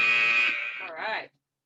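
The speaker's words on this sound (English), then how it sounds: "Your warning buzzer, dinger." A short, loud electronic warning buzzer sounds for about a second during a Tabata strength workout, wavers briefly and then cuts off into silence.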